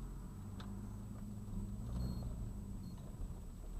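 An old car creeps slowly past an agricultural center site, its low steady engine rumble continuous and fairly quiet throughout.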